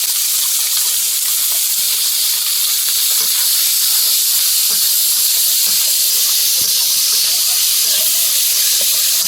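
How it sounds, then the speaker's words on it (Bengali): Chopped onion and dried chillies hit hot oil in a home kitchen, where a loud, dense, unbroken hiss of sizzling fills the whole stretch with no voices over it. "গরম হয়ে গেছে, শুকনো লঙ্কাগুলো এখন দিয়ে দেবো। পেঁয়াজ কুচি দিয়ে দিলাম।"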